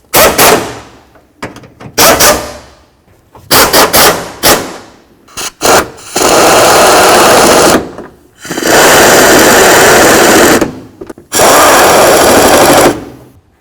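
A power tool, likely an impact driver, snugs up radiator mounting bolts on a Chevy C/K1500 pickup, firing loud rattling bursts, first short rapid stutters, then longer sustained hammering runs of about two seconds each, close and alone.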